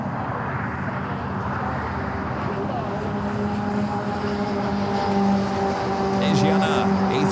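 A jet takes off from runway 25 Right at Los Angeles International Airport, its engines a loud, continuous roar that swells slightly toward the end, with tonal whine layered over the broadband rumble.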